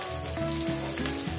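Potatoes go into a hot frying pan and sizzle steadily at close range, with a low humming tone running underneath, no speech.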